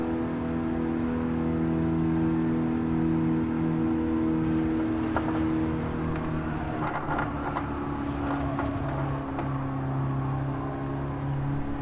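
A 2008 Fiat 500 with the 1.2 engine pulls steadily under acceleration, its engine drone loud and continuous from start to finish, heard from inside the car with no talking.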